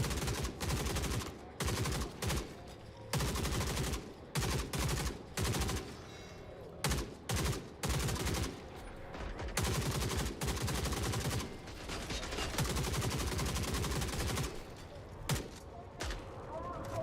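Sustained heavy gunfire as enemies fight turrets in the video game Forever Winter, dense bursts of automatic fire crackling loudly and almost continuously with brief gaps, with occasional speech over it.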